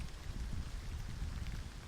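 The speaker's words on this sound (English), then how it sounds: "You can still hear the rain." Steady rain falls in a dense, even hiss with soft low patter, heard alone at a moderate level without any voices.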